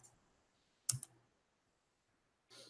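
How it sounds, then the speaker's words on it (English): Keys tapped on a computer keyboard while numeric values are entered into a CAD dimension dialog: a brief burst of a few close clicks, then quiet, then another short tap near the end. "So we'll finish typing these in."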